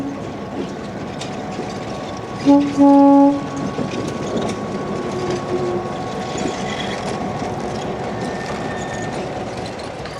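Train 2472 rolls through Niles Canyon with the Golden Gate Railroad Museum's SP business car Oakland at the rear, a steady rumble of wheels and cars with a short horn blast sounding near the middle.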